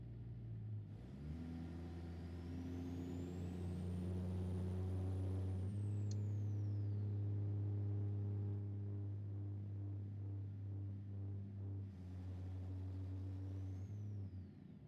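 A heavy truck in American Truck Simulator drops to a lower gear, its steady loud engine drone shifting pitch as the revs change, with a high whine rising and falling over the continuous rumble.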